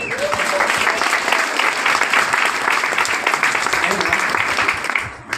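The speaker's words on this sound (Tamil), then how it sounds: "அவங்களுக்கு ஒரு பலத்த பாராட்டு கொடுங்களேன்" Audience at a direct-selling business meeting giving sustained, dense applause for distributors, loud and even across about five seconds and fading at the end, with no speech over it.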